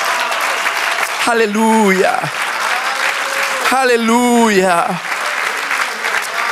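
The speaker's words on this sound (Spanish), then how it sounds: "Dale un aplauso fuerte a Él." A church congregation applauds during a sermon, a steady wash of clapping running throughout, with a voice twice calling out loudly over it.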